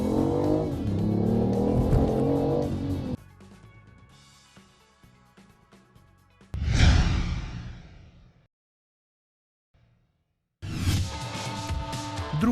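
A 1.5-litre car engine revs hard in loud bursts, surges again in a swelling pass that fades into a few seconds of silence, then roars back close and loud at the end.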